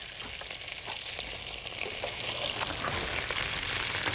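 Food browning in about a tablespoon or two of oil in a pan, a continuous close sizzle with a soft crackling texture that swells a little toward the end.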